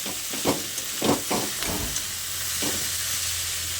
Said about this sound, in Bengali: এবার আরও খানিকক্ষণ এইভাবে নেড়ে চেড়ে কপিটাকে রান্না করে নিতে হবে।